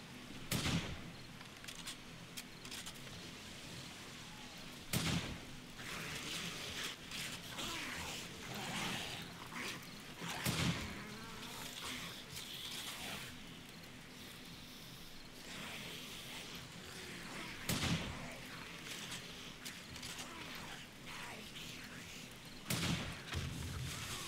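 Booming landmine blasts and gunfire thuds burst out at intervals in a multiplayer shooter game, loud sharp hits over a steady noisy battle backdrop while players chatter.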